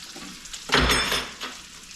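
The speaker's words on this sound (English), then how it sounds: "I'm just gonna take the butter, pretty much just baste it over the fish right here" Fish sizzles in a hot pan as it is basted with butter and garlic, a brief swell of frying crackle rising and fading over a quiet background.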